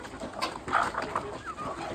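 Desi village hens, some bearded, crested and tufted, cluck in a few short bursts against a steady outdoor background, moderately close and with no talking over them.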